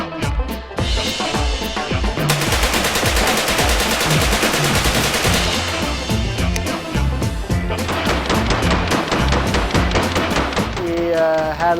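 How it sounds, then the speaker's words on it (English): Automatic rifles and machine guns fire loud, rapid bursts on an outdoor range, sustained rattling volleys that run almost continuously, with brief gaps between strings of shots. "We went and shot some machine guns."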